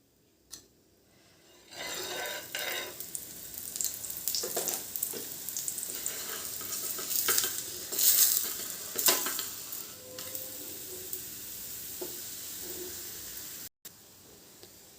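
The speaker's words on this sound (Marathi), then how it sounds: "आपल्याला मस्त दोन्ही बाजूने तूप लावून मस्त अशी शेकायची आहे" Tilpoli, a sesame-filled flatbread brushed with ghee on both sides, roasting in a pan: a steady close sizzle and hiss that runs throughout, with occasional scrapes and shifts as it is moved and turned.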